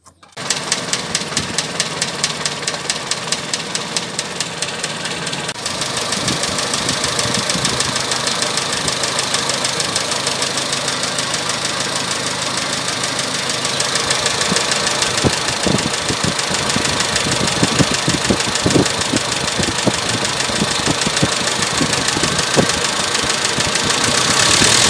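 A small engine idles steadily after a carburetor adjustment, running loud and close with a continuous rapid chugging throb that stays even throughout.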